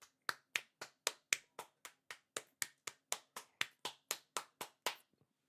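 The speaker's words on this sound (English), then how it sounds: "Clap the players one last time" A crowd gives a steady round of applause for a football team at the end of a treble-winning season, about twenty sharp, evenly spaced claps in a row that stop abruptly, with no talking.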